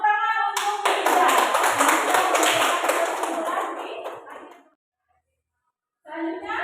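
Students in a classroom clap together for a classmate, a burst of brisk hand claps that swells quickly, holds for a few seconds, then thins out and fades before a voice resumes.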